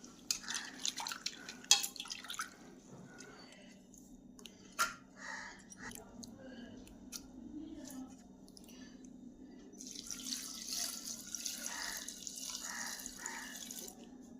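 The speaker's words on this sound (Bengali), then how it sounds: "ডাঁটাগুলোকে পরিষ্কার করে ধুয়ে নেব, কাদা বালি থাকতে পারে।" Cauliflower stalks rinsed under a running kitchen tap to wash off mud and sand, with a quiet stream of water, soft splashes and drips, and handling clicks, growing into a brighter, steadier flow near the end.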